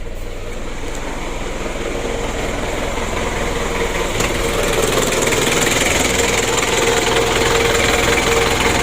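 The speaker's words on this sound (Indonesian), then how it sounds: "Sulit hidupnya teman-teman, starter panjang ya." A car that is hard to start cranks on a long run of the starter after its radiator overheated and sprayed coolant, producing a loud, continuous mechanical churn with no break or catch.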